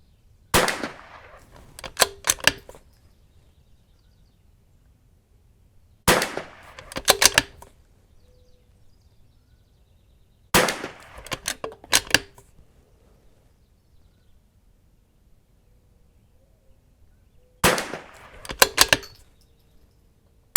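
Rifle shots at an outdoor shooting range, fired in four separate clusters of several sharp, loud cracks each, with quiet pauses between groups and no talking.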